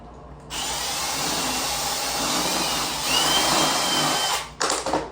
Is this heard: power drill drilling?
yes